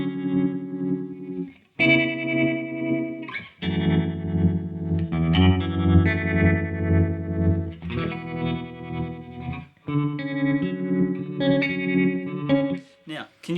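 Chase Bliss Audio Gravitas pedal running through its factory presets, giving a sustained, heavily processed tone with chorus-like shimmer and distortion, loud and continuous with brief gaps between chords.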